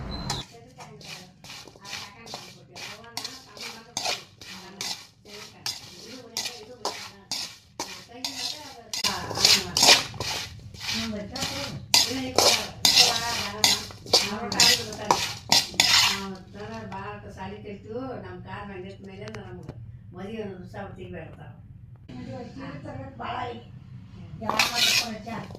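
A metal spoon clinks and scrapes rhythmically in a pot while mixing raw mango pickle with turmeric powder, a voice talking over the close, irregular clatter.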